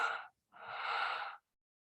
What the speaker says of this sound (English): is to do deep breathing.